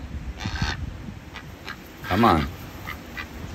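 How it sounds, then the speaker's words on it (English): A pet duck quacks and honks close by, a rasping burst early and a louder, drawn-out call midway, with a person talking softly around it. "Professional emotional support duck."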